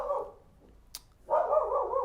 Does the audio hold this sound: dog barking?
yes